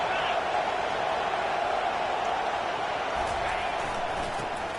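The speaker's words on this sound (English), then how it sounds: "they try to quiet this raucous, crazy crowd" A raucous, loud crowd roars steadily inside a Florida college football stadium, a dense continuous wall of cheering with no break across the stretch.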